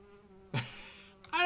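A short, close buzz of bees in Minecraft, a droning hum that cuts in sharply, fades a little, then rises again.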